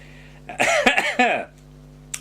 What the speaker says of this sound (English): And I'm coughing.